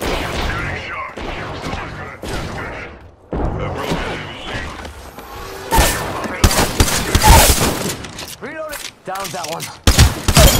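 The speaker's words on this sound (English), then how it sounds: "Taking fire." Gunfire in the Apex Legends video game comes as rapid, loud bursts and single sharp shots, with thuds and mechanical clatter, while voices talk over the firefight.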